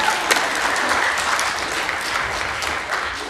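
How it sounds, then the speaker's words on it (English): An audience at a Pasifika Fusion event claps for a helper who fixed the microphone, with steady applause from many hands at moderate volume, a few sharper claps standing out, and no talking over it. "Everyone clap for John for fixing the microphone."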